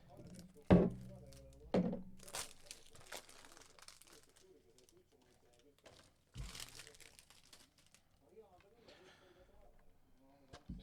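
Packaging of a Back to the Future 4K trilogy box set being opened, with sharp crinkles, thunks and rustling bursts scattered among quieter handling sounds, close by.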